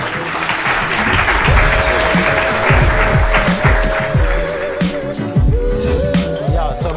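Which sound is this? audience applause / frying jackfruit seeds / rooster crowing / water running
audience applause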